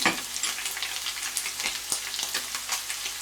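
Onions and tomato paste fry in a hot pan with a dense, crackling sizzle, close and continuous, dotted with small pops and stirring sounds.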